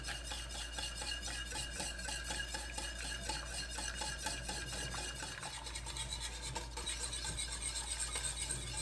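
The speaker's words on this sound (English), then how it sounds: "Okay, we're gonna whisk this." A whisk beats a mocha espresso keto ice cream custard mixture in a bowl with steady, quiet, rhythmic scraping and swishing, continuous and close, with no talking.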